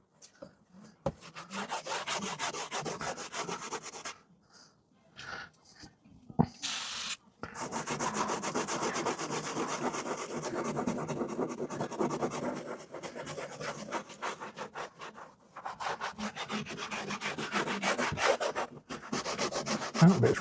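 Campervan roof being scrubbed with PVC cleaner, heard as close, steady rubbing and scraping strokes broken by several brief pauses.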